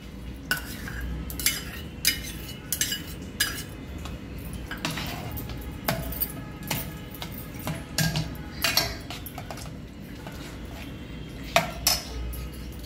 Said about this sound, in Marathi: त्याच्यामध्ये सगळं दही वगैरे घालून ते पूर्ण मिक्स करून घेऊ